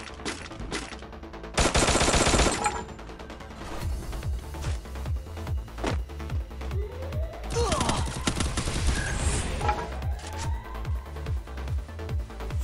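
Heavy gunfire in the battle-royale shooter Free Fire: a loud, dense burst of automatic shots, then steady repeated rifle reports and distant impacts rolling on close and clear.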